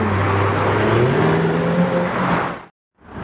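A Corvette C8 sports car drives past nearby, its loud engine note swelling and shifting as it goes by, then cutting off abruptly near the end before another rumble begins.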